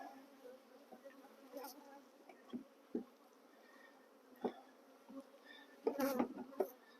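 Honey bees buzzing inside a box as it is moved, a steady low droning hum with louder bursts and knocks from handling, close and soft.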